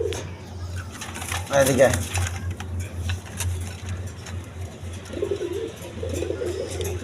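Pigeons coo at a market pigeon stall where high-quality pairs, including orange-marked birds, are kept, low throaty calls rising at moments through a steady hum while someone talks over them.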